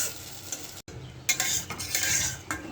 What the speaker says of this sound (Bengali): এই যে কাঁঠালের সাথে আলু দিয়ে দিয়েছি। মশলাটা একটু কষতে থাকুক।